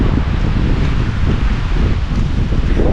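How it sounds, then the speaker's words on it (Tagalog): Strong wind buffets the microphone with a steady low roar and rustling, continuous throughout with no voices. "Grabe ang lakas ng hangin"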